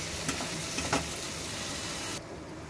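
Mushrooms roast in ghee in a pan, an even close sizzle broken by a few quick stirring scrapes, then fading softer at the end; no one speaks.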